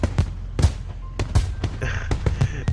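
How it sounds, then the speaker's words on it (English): Fireworks in the visual novel Katawa Shoujo: a rapid series of about a dozen sharp pops and bangs, some crackling, bursting unevenly one after another at moderate loudness. "Rockets rise up to the sky, one at a time, breaking into flowers of red, green, and gold"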